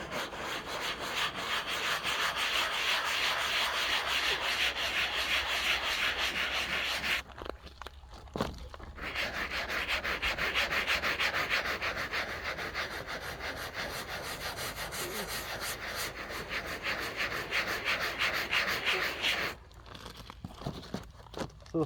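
Steady abrasive scrubbing as old foam backing is worked off a Jeep XJ headliner board, a close, continuous rubbing rasp with two brief pauses and no talk.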